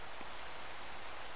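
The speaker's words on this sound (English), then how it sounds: "This rain on Christmas is, in fact," Steady rain falls in Minecraft, a soft, even hiss of drops throughout with no voices, fairly faint and unchanging.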